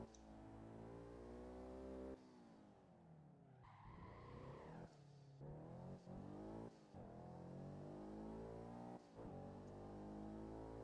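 In the racing game Shutoko Revival, a car's engine revs high and drops as it spins through a J-turn, with tires skidding and squealing partway through. The engine drone stays loud and continuous, with no talk over it.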